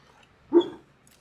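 A sleeping dog gives one short, muffled bark-like yip while dreaming, brief and fairly close, in an otherwise quiet room.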